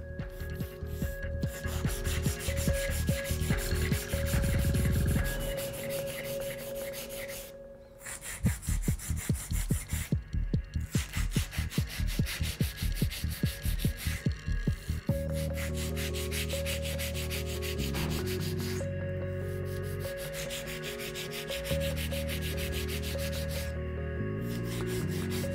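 A 150/150 Deken nail file rubs along the sides of a fingernail in a long run of quick, rhythmic rasping strokes, close and dry, with short pauses between passes and no voices.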